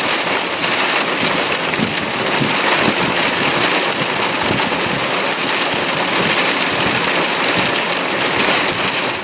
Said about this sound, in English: punching through the storm's rain bands to experience the deluge within